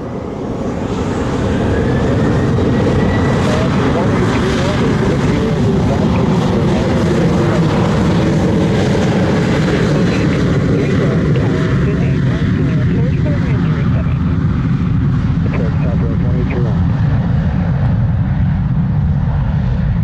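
Airliner accelerating down runway 07 at Montego Bay airport in Jamaica, a loud sustained engine roar that holds steady through the whole stretch, with radio-style voices talking underneath.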